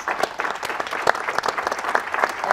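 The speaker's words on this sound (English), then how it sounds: "Let's give them a round of applause." Clapping from a conference audience thanking a discussion panel on Latinos in soccer, a moderately loud burst of many hands with distinct sharp claps standing out, fairly short and steady.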